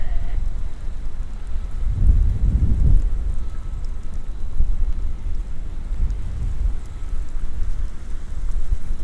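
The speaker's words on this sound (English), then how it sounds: "And I think there's a monsoon blowing in right now." Steady monsoon rain hisses throughout at night in downtown Mesa, Arizona, with a low rumble of thunder swelling around the second and third seconds and a fainter roll later.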